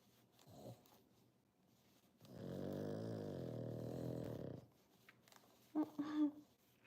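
A dog snores with laboured, struggled breathing, one long rasping drawn-out breath followed by shorter snorting catches, close and fairly quiet.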